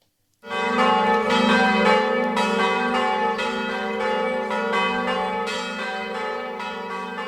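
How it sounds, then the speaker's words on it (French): Church bells of Saint Peter's basilica swing in full peal, a loud, dense and continuous ringing whose overlapping tones hold steady from start to finish with no voices. "Elle sonne à toute volée, les cloches de Saint-Pierre."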